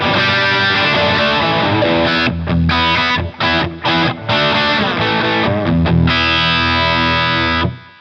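Electric guitar played through an LPD Pedals distortion pedal, loud and saturated, with a dense chugging riff, brief choppy stops in the middle and a sustained ringing chord toward the end, no talking.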